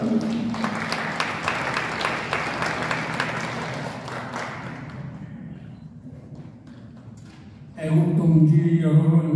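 An outdoor crowd at a Korean political declaration rally claps for several seconds in a broad wash that gradually thins and dies away, followed by someone speaking into an amplified microphone.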